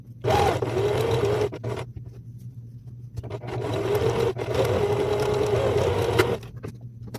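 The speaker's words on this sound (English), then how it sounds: "We're gonna sew these two pieces, the front and the lining piece." A sewing machine stitches the front and lining pieces of an Ankara fabric mask together in two sustained whirring runs, close and steady, with short pauses and clicks between them.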